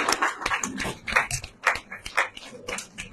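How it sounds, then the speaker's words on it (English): Irregular, fairly faint hand clapping from an audience at a book launch, uneven bursts of claps with gaps between them and a slightly muffled, distant quality. "give her a round of applause while she takes to the podium"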